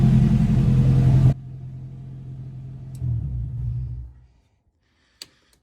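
A Toyota AE86 hatchback, parked since 2010, idles with a loud steady rumble that drops abruptly to a lower running hum, then stumbles and cuts off into silence, followed by a faint click.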